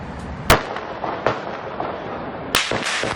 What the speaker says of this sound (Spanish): Este es el momento en el que se producían los disparos.